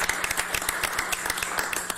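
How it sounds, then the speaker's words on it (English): A council meeting crowd gives a round of applause, a dense and steady patter of many hands clapping together, fairly loud and continuous from start to finish. "So I have to just offer him a round of applause because he's done a great job"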